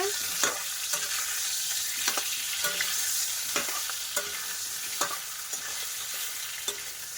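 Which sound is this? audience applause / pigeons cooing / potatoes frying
potatoes frying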